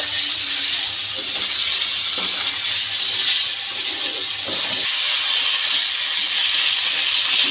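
Water poured into a pan of sizzling spiced fried potatoes for a Bengali fish curry, a loud, close, continuous hissing rush of steam and bubbling that holds steady throughout, with no talking.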